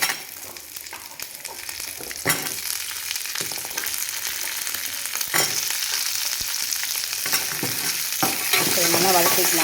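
Onions with ginger garlic paste sautéing in a pan, a continuous close sizzle broken by sharp scraping stirs that recur every couple of seconds and grows louder toward the end.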